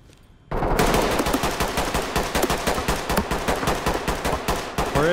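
Sustained automatic gunfire in the tactical shooter game Ready or Not, a loud rapid burst that rattles on for about five seconds after a brief quiet start.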